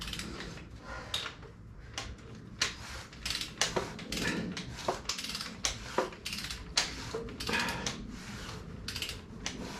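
Old Mercury flathead outboard motor being turned over by hand, its freed valve train working: a series of irregular mechanical clicks and clacks, close and moderately loud, repeating unevenly throughout.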